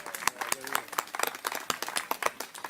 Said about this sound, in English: How about a round of applause for Dennis and all the volunteers that put this on today?